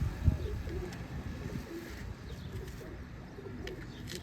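Pigeons coo on a rooftop in repeated soft, throaty calls, near and fairly loud over a busy outdoor background.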